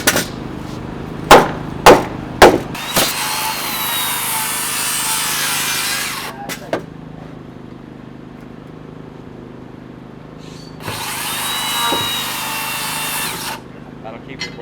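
Power saw cutting lumber for wall framing on a building site, three short sharp cuts followed by a longer steady cut, then a second long cut later, with quieter stretches of site noise between them.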